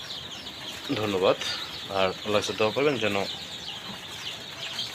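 Chickens raised on a small farm cluck and murmur nearby in a few short bursts while someone talks over them.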